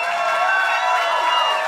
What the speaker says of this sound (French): On peut applaudir Bric et Brac